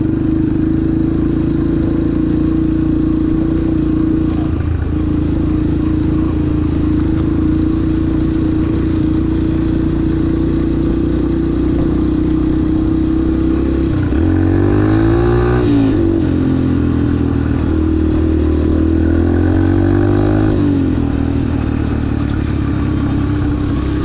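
A 2003 Yamaha TT125 motorcycle idles steadily, loud and near, then revs up and down twice before settling back to idle, with no talking.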